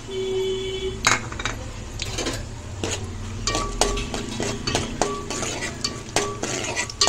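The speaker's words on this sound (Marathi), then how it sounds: "आपण काजू फ्राय करून घेऊया।" Cashews and almonds fry in a ladleful of oil in a pot, a soft sizzle under repeated metallic scraping and clinks of a spoon stirring against the pot, close by with no talk.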